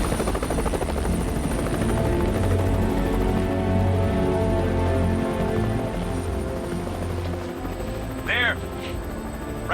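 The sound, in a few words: Air Force helicopter flying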